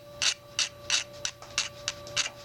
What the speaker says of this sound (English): you can file this where it hasn't been touched